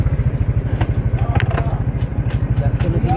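A motorcycle engine runs close by with a steady, rapid throbbing pulse that holds through the whole stretch, with a few faint clicks and clatters on top.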